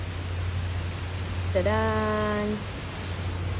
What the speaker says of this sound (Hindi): बहुत तेज बारिश है आज